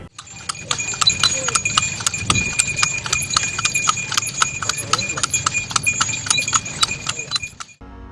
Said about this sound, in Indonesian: Si Iwan ini samar-samar ngedenger suara delman.